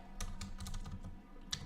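A short burst of typing on a computer keyboard, quick close clicks in small clusters heard alone.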